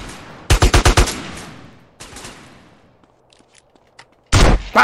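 Guns firing in GTA San Andreas: a close burst of five rapid shots, a lone shot with a fading tail, a few faint clicks, then another loud burst at the end.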